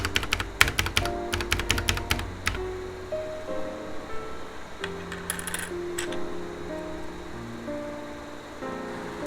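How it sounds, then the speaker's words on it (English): Typing on a Ducky One 2 SF mechanical keyboard with Cherry MX Brown switches: a quick burst of close, crisp keystrokes, then sparser clicks over a soft background hum. "this is a typing test, just to let you guys know how does the Cherry MX brown switches feel and sound like"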